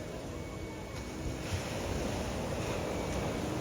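Sea waves wash steadily onto Nagoa beach in Diu, a continuous broadband roar and hiss of surf with wind buffeting the microphone, fairly faint and without clear breaks.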